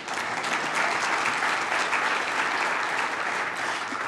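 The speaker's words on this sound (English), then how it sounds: "you can clap for that" An audience applauds at a talk on CRT and Christianity, a dense, steady wash of clapping from many hands that holds at an even, fairly loud level throughout, with no speech over it.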